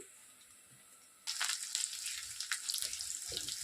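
Potatoes sizzle in a pan for homemade poha upma, a quiet hiss that starts abruptly partway through and then holds steady, close up with no talk.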